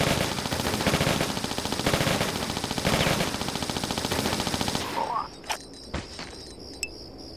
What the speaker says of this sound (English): I wonder why they gave me the Uzis.